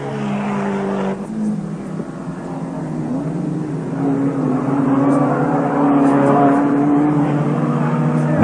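1987 Mitsubishi Starion wide-bodied touring car racing in the British Touring Car Championship, engine note rising and growing louder as it races past, close and sustained.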